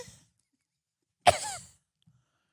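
A person imitates a celebrity's small, affected cough: one short, close burst around mid-clip, otherwise near silence with only a faint breath or two.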